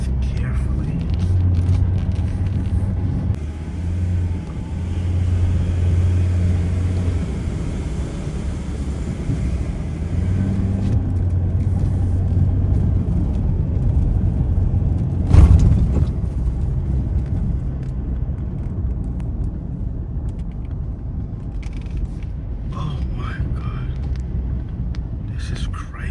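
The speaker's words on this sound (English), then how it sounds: "I just have to drive carefully." A car drives at night through Port-au-Prince with a steady, low engine and road rumble inside the cabin, and a bump partway through. Voices speak quietly at times.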